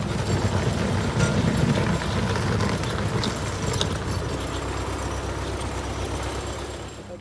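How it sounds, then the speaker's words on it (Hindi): A Russian tractor engine runs steadily at a village roadside, a continuous low rumble with a broad noisy wash that holds at a fairly even loudness throughout and fades slightly toward the end, with no voices over it. "इसलिए एक रूसी ट्रैक्टर मंगवाया गया।"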